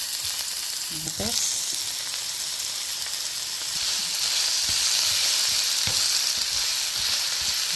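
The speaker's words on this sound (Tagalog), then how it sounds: "Haluin na lang natin lahat ng sibuyas" Chopped onions fry in hot oil for a spicy sardine and tomato dish, a loud continuous hiss and sizzle with occasional stirring knocks, and a voice speaks briefly early on.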